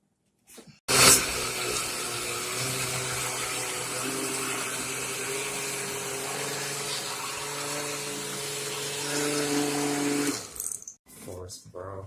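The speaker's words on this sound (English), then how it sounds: "You always want to add a little water." A blender whirs steadily for about ten seconds while making ginger juice with a little water added, a loud continuous motor drone with a slight rise near the end before it cuts off.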